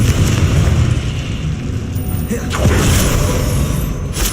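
Confringo explosion spell in the video game Hogwarts Legacy, a dense rumbling boom and crackling blast, loud and sustained, with a sharper burst midway.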